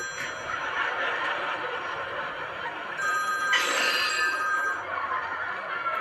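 A telephone bell ringing in a busy room, a bright trilling ring rising over background chatter and murmur, loudest toward the middle before fading.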